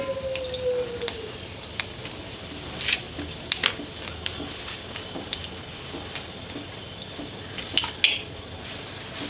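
Nigella seeds dropped into a small amount of hot oil give a soft, steady sizzle with scattered light pops and a brief utensil clink near the start.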